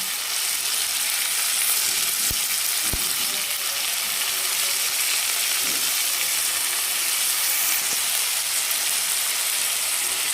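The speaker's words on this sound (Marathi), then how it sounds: "आणि छान आता टोमॅटो आपली शिजत आल्यानंतर आपण लगेच त्याच्यामध्ये भाजी टाकणार आहे" Vegetables go into a pan of cooking tomatoes and fry with a steady, loud, even sizzle throughout, broken only by a few faint clicks of stirring.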